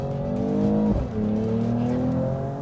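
Mercedes-AMG E 53 Cabriolet (2023) with its turbocharged inline-six, engine and exhaust holding a steady, loud drone that briefly dips and shifts pitch near the one-second mark before settling into an even cruise.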